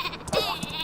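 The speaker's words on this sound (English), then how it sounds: "A sheep. What's he doing with a sheep?" Sheep weapon in the Worms W.M.D. video game lets out a short bleat, a quick wavering cry heard clearly against light background sound in under a second.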